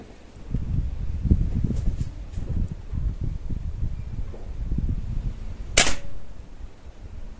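One sharp, close pop from a Beeman 1357 air pistol fitted with a damaged silencer rises from rustling and low handling noise outdoors.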